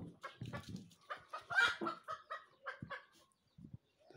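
A hen with her chicks on a small rural farm clucks in a series of short, nearby calls with brief pauses between them, ending in a few soft low clucks.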